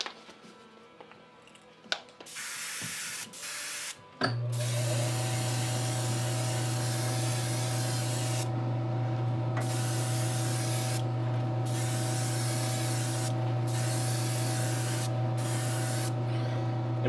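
A steady hiss of Vallejo matte varnish spraying onto a painted miniature, starting after a few short bursts and then running continuously at close range over a low constant hum, with brief gaps in the spray.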